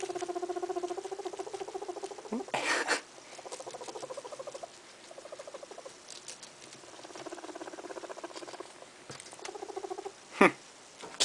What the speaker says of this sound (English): Her purrs are louder.